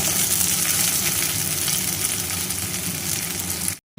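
Yardlong beans fry lightly in a pan with a steady, close, broadband sizzle that holds evenly before cutting out abruptly near the end.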